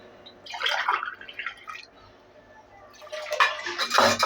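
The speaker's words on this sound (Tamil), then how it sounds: "இந்த டம்ளருக்கு வந்து 3 டம்ளர் தண்ணி ஊற்றிடலாம்" Water poured from a tumbler onto moong dal for payasam, heard as two splashy pouring bursts, the second fuller and louder, close by with no talking.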